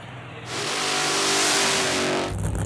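Alcohol funny car at a drag racing meet, its engine blasting into a loud sustained revving roar for about two seconds, close and overpowering, then cutting back to quieter background.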